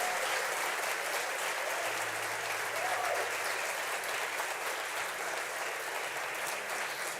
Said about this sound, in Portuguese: Pode aplaudir Jesus, aleluia.